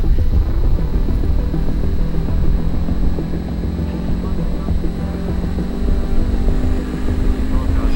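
Helicopter flying on an avalanche-control day in the mountains, with a loud, steady engine and rotor drone that fills the whole stretch while people talk over it.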